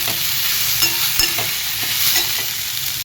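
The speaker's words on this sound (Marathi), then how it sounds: "आता चांगला का कांदा लाल होईपर्यंत परतून" Onions fry in a pan until red, a loud, steady sizzle close by, broken by several stirring scrapes and light spatula knocks.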